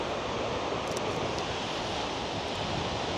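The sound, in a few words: wind blowing in a mountain valley in Norway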